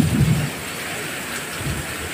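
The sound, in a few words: very heavy rain pouring down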